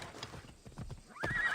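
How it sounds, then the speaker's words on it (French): Hooves clip-clop in a quick rhythm, then a horse whinnies loudly and close, a sound effect from Assassin's Creed Odyssey. "Mon cheval arrive."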